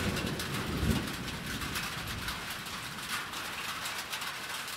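A steady rain sound effect in a Bengali audio story hisses evenly throughout, a dense unbroken wash of falling water with no voices over it.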